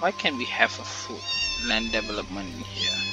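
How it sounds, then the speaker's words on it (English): A pet cat meows several times close by, its calls rising and falling under and between a man's ongoing speech, mixed with steady game music in the background. "that's my cat."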